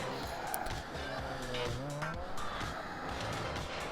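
A Chevelle's tires skid under hard braking in the racing game Forza Motorsport 4, a steady engine drone under a faint sliding squeal across a few seconds, with a voice briefly underneath.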